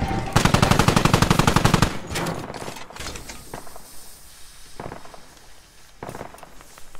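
Rapid machine gun fire in the video game Squad rattles in a loud sustained burst, followed by scattered distant shots and battlefield rumble as players talk over the action.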